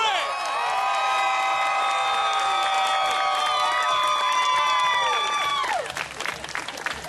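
Audience at a live mud show cheering and applauding loudly and steadily, with a bright sustained tone ringing over the crowd before it cuts off into scattered claps near the end.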